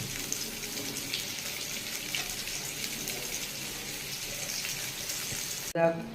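Eggplant and potato slices fry steadily in a pan for a home lunch, a continuous loud hiss and crackle of hot oil that runs without pause until a brief clatter at the very end.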